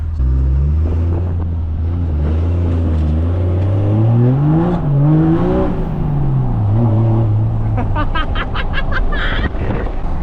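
A turbocharged truck engine revs up loud and close, its pitch climbing and dipping through gear changes in fourth gear, with a steady drone, a sweeping rise around the middle and sharp turbo flutter bursts near the end.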